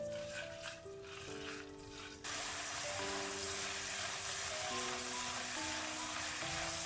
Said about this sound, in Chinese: 接下来锅里少倒一点食用油，油热之后将肉丁倒进来，翻炒均匀，将肉丁炒熟炒香